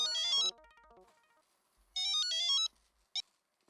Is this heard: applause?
no